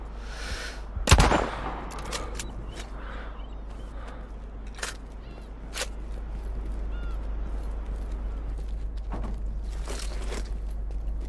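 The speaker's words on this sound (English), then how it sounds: "Shots here. They're shooting at us." Enemy gunshots in the sniper game Sniper Ghost Warrior Contracts: one loud, sharp close shot early, followed by scattered fainter distant cracks over a steady low background hum.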